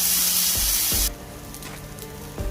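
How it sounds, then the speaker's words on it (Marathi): Bombay duck (bombil) fish frying in a pan, flipped to crisp the second side, gives a loud, bright sizzle that drops sharply to a softer steady crackle after about a second, with a few low thumps of handling. "आता आपण दुसऱ्या बाजूने पण याला 5 मिनिटं थोडंसं फ्राय होऊ"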